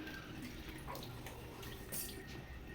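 A child plays in water in a bathtub during summer, with faint, continuous sloshing and dripping water and occasional soft splashes, heard alone without talk.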